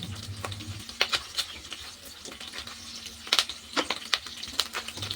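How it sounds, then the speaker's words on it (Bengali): Onion slices stirred and lightly fried in oil in a pan for bhindi do pyaza, with a soft steady sizzle under repeated sharp scraping taps of a spatula, close and fairly quiet. "বেশ হালকা করে 1 মিনিট মতো নাড়াচাড়া করে ভেজে নিলাম।"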